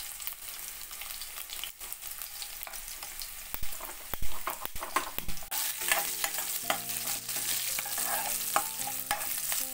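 Onion, dried red chillies and garlic cloves frying in hot oil for a tempering, a steady close sizzle with stirring scrapes and clatters that grows louder and denser partway through, no voices.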